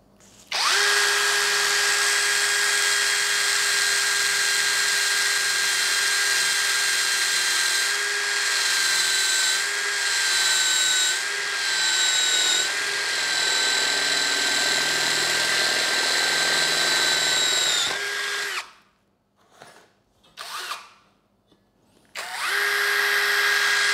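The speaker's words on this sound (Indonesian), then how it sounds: "Nah, sekarang kita coba ngebor besi ya. Ini mata bor 8 mili." A Bull BL26Li cordless brushless drill fitted with an 8 mm bit bores into steel at low speed, giving a loud steady whine for about eighteen seconds, then several short stop-start bursts.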